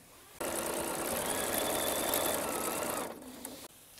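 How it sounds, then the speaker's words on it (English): A sewing machine runs steadily, stitching down the edge of a homemade washable quilted rainbow rug, whirring loudly and continuously for about two and a half seconds before stopping, with no talking. "So I will be stitching this one edge down."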